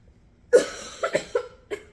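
One loud cough rings out, followed by a few smaller coughs in quick succession, close up with no talking.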